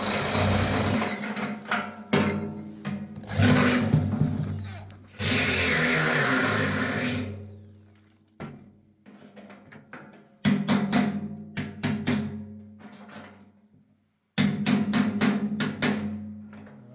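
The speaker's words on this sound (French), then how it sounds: "on va pouvoir percer avec la petite mèche" A small bit drilling into metal on a van conversion, heard as several loud bursts of whining power-tool noise separated by short pauses, with intermittent clanks and knocks between runs.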